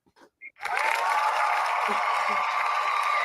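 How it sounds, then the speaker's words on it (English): An applause sound effect cuts in after a few brief sounds and runs as a loud, steady wash of clapping to the end of the clip. "Let me see if my applause works."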